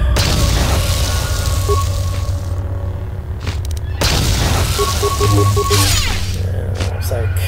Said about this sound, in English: we can use thermal plasma grenade at that